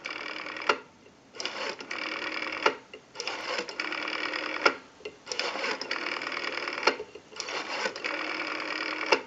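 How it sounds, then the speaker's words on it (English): Western Electric 500 rotary telephone dial spinning back repeatedly, a busy whirring buzz broken by short pauses between several returns, close and alone without talk. "We have a nice smooth return on our rotary dial now."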